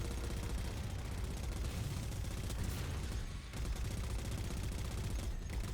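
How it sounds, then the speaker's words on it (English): Chain gun turret firing nonstop in the Halo 4 video game, a dense, loud rattle of rapid automatic shots that runs unbroken, with only a brief dip midway, and no talk over it. "we're just going to use the chain gun turret"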